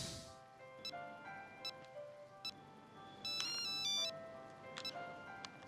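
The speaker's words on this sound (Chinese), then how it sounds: "然后我又接到了王建州给我打的电话" A telephone rings with repeated electronic ringtone bursts, faint and steady in a quiet indoor room, with no talking over it.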